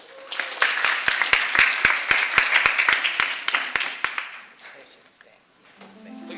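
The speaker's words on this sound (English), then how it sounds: "So please give a round of applause for Masaki Sato and Mike Bond" An audience at a county heritage month celebration applauds jazz musicians invited to perform the national anthem, with crisp close hand claps over general clapping that tapers off toward the end.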